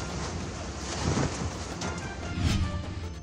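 Strong typhoon wind roars steadily in Abuyog, Leyte, buffeting the microphone with heavy gusts swelling and easing, a dense rushing noise without any talking.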